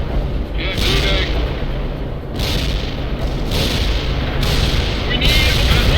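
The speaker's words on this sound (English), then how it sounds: "Ivan is calling in a heavy artillery barrage on your position." Heavy artillery barrage in World in Conflict: a continuous roar of deep booming impacts with repeated bursts of blast noise, loud and dense throughout, with voices talking over it.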